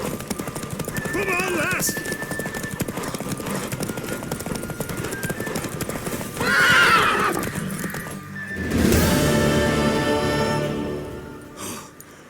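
A galloping horse in The Witcher 3 Wild Hunt, with a loud neigh partway through, hoofbeats running steadily under a spoken line and game music.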